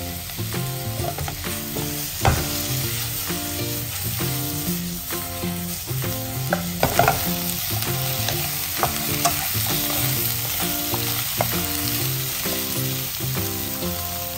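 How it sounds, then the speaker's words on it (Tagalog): Chicken wings sauté in a hot pan with a steady oily sizzle and occasional stirring scrapes, all under continuous rhythmic background music that runs through the whole stretch. "ilunod na natin ang chicken wings at gisahin ito hanggang maging golden brown"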